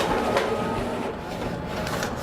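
An office printer feeds 13 by 19 inch paper from its bypass tray, a steady loud mechanical whir with a rhythmic rattling clatter throughout.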